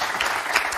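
Brief burst of game-show studio audience applause, steady dense clapping filling the whole moment with no voices over it.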